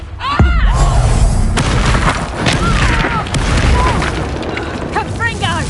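A Confringo fire spell explodes in the game Hogwarts Legacy: a heavy boom with sharp bursts and whooshing magical effects, layered with combat noise and a voice.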